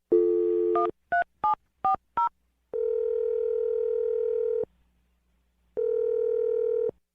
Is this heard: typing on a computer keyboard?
no